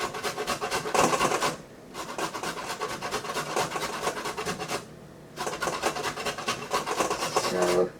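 Organic ginger root is finely grated in steady back-and-forth rasping strokes, close and loud, with two brief pauses between runs of scraping.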